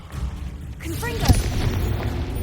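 In Hogwarts Legacy, a Confringo fire spell streaks in with a quick rising whistle and lands as a single sharp, close boom midway through, with game noise and speech continuing around it.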